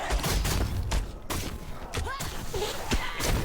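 Explosive blasts and heavy thuds from combat in the zombie game Dead Island 2, loud and dense throughout, with scattered sharp crashes and impacts layered over constant game noise.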